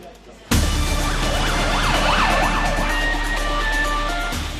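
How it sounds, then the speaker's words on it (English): An ambulance siren wails loudly and steadily after a sudden onset, its rising and falling tone sweeping repeatedly over traffic rumble, arriving at a busy hospital emergency department. "The ambulances keep arriving,"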